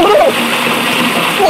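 Water splashes steadily and loudly over a mobile game character in Kick The Buddy, with a continuous gush and spray lasting the whole moment.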